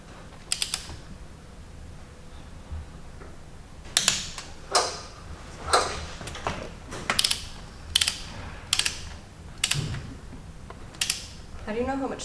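A torque wrench clicks repeatedly while engine bolts are tightened, with close, crisp ratcheting snaps coming in a steady rhythm about once a second, each followed by a short creak.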